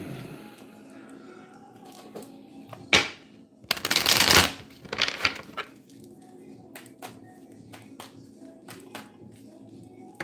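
Tarot cards being shuffled close to the microphone, with scattered soft taps and slides, a loud riffling burst in the middle and quieter card flicks before and after in a quiet room.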